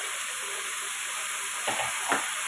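Chopped tomatoes tipped into vegetables frying in a pan, giving a steady loud sizzle and hiss with a couple of brief soft thuds and stirring scrapes near the end.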